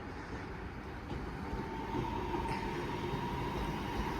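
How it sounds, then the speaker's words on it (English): A Class 323 electric train pulls out of Wigan North Western station as a faint, steady rumble with a soft whine, heard at a distance. "apparently at the same time we have a 323 now departing"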